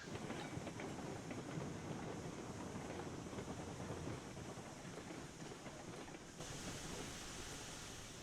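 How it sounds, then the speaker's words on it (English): A train in the Railroads Online game rolls along the rails with a steady, dense rumble and faint clickety-clack that holds evenly throughout, with no voices over it. "Alright, so now this train is going to wait here."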